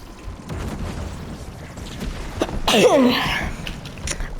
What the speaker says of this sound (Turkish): ah, hapşırdım ya.